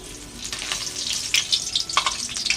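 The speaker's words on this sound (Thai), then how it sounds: "โอเคงั้นผมขอเวลาทอดปลาสักครู่นะครับ" Snakeskin gourami fish frying in hot oil, a loud continuous close sizzle with crackling bursts and spatters throughout.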